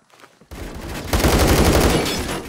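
A loud, rapid stream of automatic rifle fire in the shooter Phantom Forces, starting abruptly after a quiet moment and hammering on steadily until the end.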